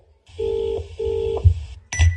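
Touch-tone telephone dialing: two long steady DTMF tones under a faint hum, then a brief burst of tones at the end as a call is placed and goes unanswered.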